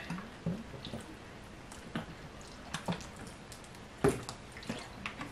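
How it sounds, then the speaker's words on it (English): Lime juice is poured into a jar of homemade fire cider tonic, heard as soft, scattered drips and small squishy liquid splashes at close range, with no talking. "Do a little bit of lime juice here."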